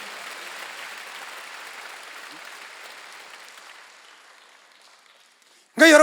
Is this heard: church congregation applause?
yes